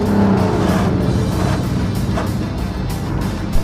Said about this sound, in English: Finally, I am on a racetrack with the Rotsun, and it rips down the straightaways